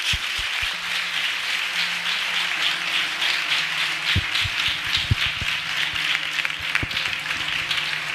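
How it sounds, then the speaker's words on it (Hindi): A church congregation claps together for the Lord during a Hindi gospel service, a steady wash of many hands with a few sharper near claps standing out, filling the room without speech. "आइए हम अपने प्रभु के लिए एक अच्छी ताली बजाएंगे।"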